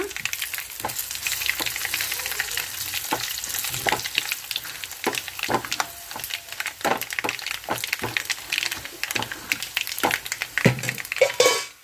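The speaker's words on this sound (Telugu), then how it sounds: "పోపు లేగినాయి కదండి ఇప్పుడు ఎండుమిర్చి వేసుకుందాము" Spices and dried red chillies tempering in hot oil for Andhra sambar, a steady close sizzle and crackle with sharp popping bursts throughout, no talk.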